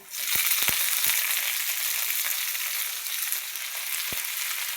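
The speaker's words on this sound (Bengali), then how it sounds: "তো এখন আমি শাকগুলা দিয়ে দেবো।" Red amaranth greens sizzle loudly and steadily in a hot pan, a bright hiss broken by a few sharp pops and clicks near the start, with no talking.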